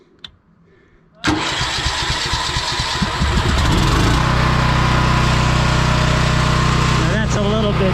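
A propane-fueled portable generator cranks and catches after a quiet moment, then roars loudly and steadily at close range, settling into a constant running drone while a voice speaks over it.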